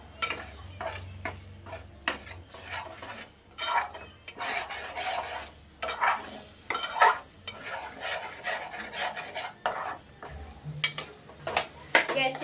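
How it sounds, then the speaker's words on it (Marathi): Egg bhurji stirred in a pan on the stove, irregular scraping and clinking strokes of a spoon against metal with a faint sizzle, fairly close, no talking. "सेम चालू ठेवूनच आपल्याला हे सतत ढवळत राहायचंय"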